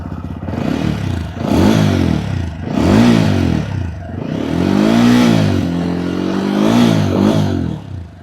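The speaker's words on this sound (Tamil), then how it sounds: "அது எப்படின்னு நம்ம இப்போது எக்ஸாஸ்ட் நோட் பார்க்கலாம்" A 2025 TVS Apache RTR 200 4V motorcycle exhaust revving repeatedly, rising and falling in several loud swells with a rough, throaty burble between them, close by and with no speech.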